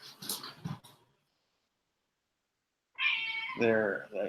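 Excited, hungry house cats meow twice in a row, close and fairly loud, after a pause of silence. Some brief rustling and voices come just before.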